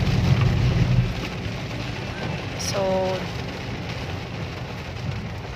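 Heavy rain roars steadily throughout, with a brief voice speaking over it and a short tonal chirp midway.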